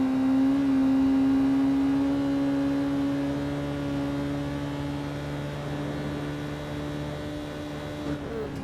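Car engine on a race track holds a loud sustained drone that drops in pitch, then settles into a steadier, slightly quieter hum as the throttle eases.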